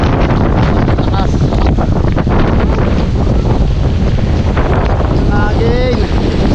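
Strong typhoon wind roars continuously and loudly across an open microphone, a dense, steady buffeting rush with gusty swells and no break, while a faint whistling tone rises briefly near the end.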